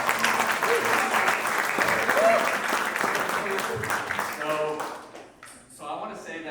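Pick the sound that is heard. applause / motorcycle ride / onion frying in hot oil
applause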